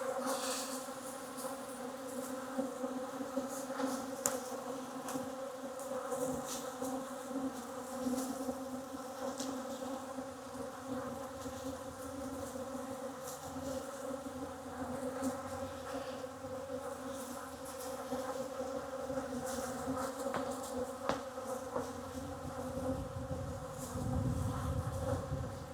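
Honey bees swarm around a hive in spring, a continuous layered buzz of many insects at mixed distances, steady and moderately loud, with occasional louder passes near the mic and no speech.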